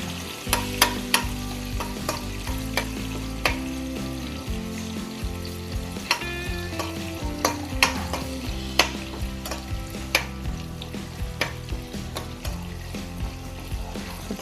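Urad dal and chana dal frying in oil at the side of a pan, a continuous close sizzle broken by frequent sharp spatters and pops and scraping stirs, with no voices.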